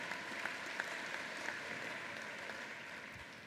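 Faint, distant clapping from a large audience at a university spring convocation ceremony, a soft steady patter with a few sharper individual claps standing out, no voices over it.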